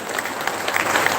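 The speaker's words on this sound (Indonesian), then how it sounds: "Tepuk tangan buat Indonesia." Audience applauding at a public entrepreneurship lecture given by an Indonesian minister, a brief dense round of clapping from many people, close and fairly loud.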